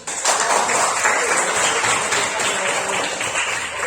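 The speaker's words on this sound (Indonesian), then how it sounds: "berikan tepuk tangan untuk" A classroom of students claps together in a dense, steady round of applause, close and lasting throughout.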